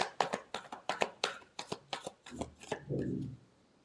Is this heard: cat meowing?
no